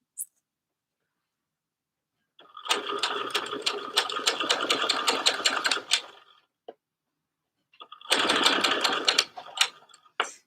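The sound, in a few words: sewing machine stitching a very narrow hem on a dress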